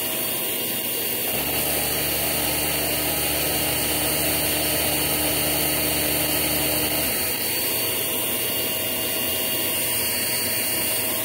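A Filtropur FC F3000 vacuum runs on one motor with a loud, steady roar throughout. A deeper droning hum sits under it for the first half before fading out.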